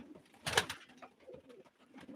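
A pigeon at a live pigeon auction gives a short burst of wing flapping followed by soft, low cooing calls close by.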